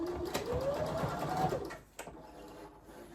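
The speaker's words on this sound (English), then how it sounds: "I'm going to use a zigzag stitch to just top stitch those down" Sewing machine top stitching fabric with a zigzag stitch for a folded cushion, a rapid rhythmic whirring run of needle strokes that rises in pitch, then stops with a click and faint handling.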